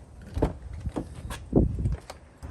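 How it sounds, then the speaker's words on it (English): Driver's door of a third-generation Toyota 4Runner unlocking with a thunk, then the latch clicking and the door opening, a few separate close mechanical knocks and clacks. "unlock, open the door,"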